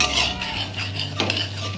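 Potatoes with spices and curry leaves stirred in a pan for a potato dish, a short run of scraping and clinking from the utensil against the pan over a low steady hum, no talk.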